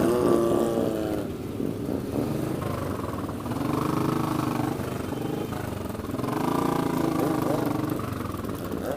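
A mix of touring, adventure, sport, heritage and vintage motorcycles rides past at a protest rally in Parliament Square, London, a continuous engine drone with layered idling and revving at moderate distance, with faint voices beneath.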